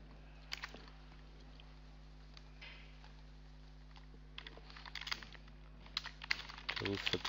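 Keys clack on a computer keyboard as an ID card number is entered, scattered taps early on then a denser burst of typing near the end, with a low steady hum underneath.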